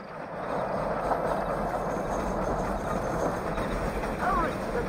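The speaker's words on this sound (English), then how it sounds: "The train is getting away!" Train rolling along rails in the video game Red Dead Redemption, a steady continuous rumble with a faint rhythmic clatter, held under a broad noisy wash of motion throughout.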